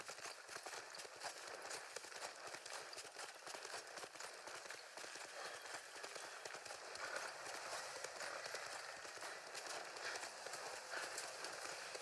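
Horse hooves galloping in the Ghost of Tsushima video game, a fast continuous clip-clop rhythm running steadily and fairly loud for the whole stretch, with no talk over it.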